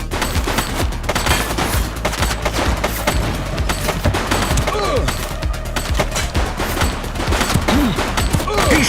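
Rapid bursts of gunfire from a fleeing suspect in a police video game, dense and continuous across the scene with heavy low booms and crackling shots, mixed with game effects and occasional voices.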